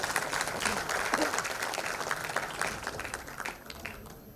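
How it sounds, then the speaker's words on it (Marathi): Enthusiastic applause from a ceremony audience at a commemoration event, sustained dense clapping at steady loudness that tapers slightly toward the end. "जोरदार टाळ्या."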